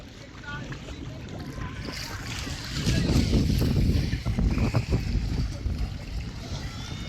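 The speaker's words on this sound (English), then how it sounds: "Boat ride is very exciting." Engine drone and rushing water from a moving boat at Al Safliya Island, Qatar, with wind buffeting the microphone and voices talking over it, louder toward the middle.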